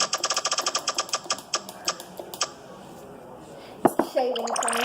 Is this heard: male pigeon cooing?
no